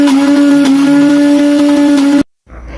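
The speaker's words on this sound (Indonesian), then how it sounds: "Dan untuk bumbu basahnya digiling pakai gelas yang ini ya moms" Electric grinder whirring as it grinds wet spice paste in a glass jar, a loud steady motor hum that holds for about two seconds, then cuts off abruptly, leaving a quieter tail.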